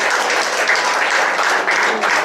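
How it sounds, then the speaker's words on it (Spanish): Church congregation applauding loudly and steadily throughout, a dense wash of clapping with no breaks. "Démosle un fuerte aplauso al Señor."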